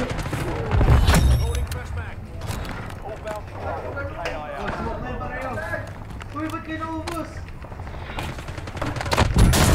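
Gunfire in a video game, scattered loud shots and crackling volleys ringing out over and between excited talk, with a heavy blast near the start and another toward the end.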